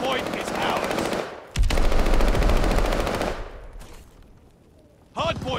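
Rapid machine gun fire from a Call of Duty: Vanguard multiplayer match chatters in loud sustained bursts, fading to quieter background fighting before another close burst breaks out.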